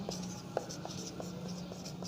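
Pen or marker writing notes during a chemistry lesson on quantum numbers, a steady run of soft scratching strokes with small taps, close and fairly quiet, with no talk.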